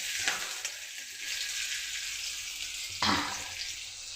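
Onion and curry leaves fry in a pan with a steady, close hiss, broken by two sharper bursts of sizzle where something is stirred or added.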